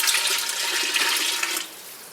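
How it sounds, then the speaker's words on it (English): Water, part of four quarts for a Louisiana gumbo, pours steadily into a pot as a loud continuous rushing splash, stopping abruptly near the end. "This is only half of the water we'll be putting in."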